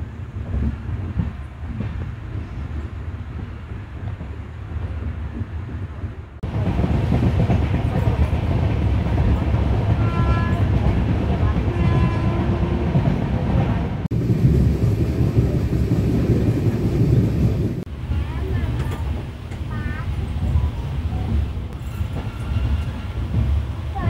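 Passenger train on the Tirunelveli to Mettupalayam route running at speed, a loud steady rumble with rail clatter that swells after a few seconds and stays heavy and close throughout, with no talking.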